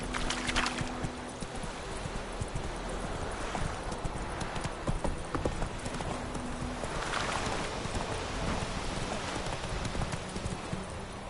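A horse in The Witcher 3 gallops along, its hooves pounding in a quick, steady clip-clop rhythm close by, with wind-like rushing in the background.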